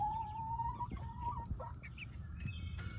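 Pet chickens making soft clucks and higher squawky calls while being petted, close by and fairly quiet, with a few scattered notes and no talking.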